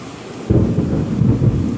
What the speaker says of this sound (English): it's raining outside, so I apologize to the thunder noise.